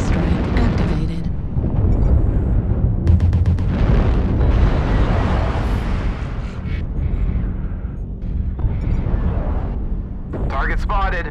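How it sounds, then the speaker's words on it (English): Artillery strike explosions in a video game thunder in heavy overlapping booms and rumbling blasts, loud and sustained, while game voice lines are heard over the barrage. "Artillery strike activated."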